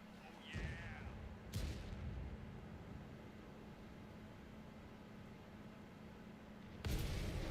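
A tank cannon fires high-explosive shells in World of Tanks on console, with several heavy muffled booms at intervals over a constant engine rumble and background noise.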